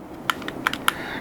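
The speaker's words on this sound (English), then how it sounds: "This is not mechanical keyboard, but it's hand-feel mechanical keyboard." Keys clack on a G40 one-hand numeric keypad keyboard with a mechanical-feel, suspended-keycap design and metal cover, a handful of crisp, close taps in a quick uneven run.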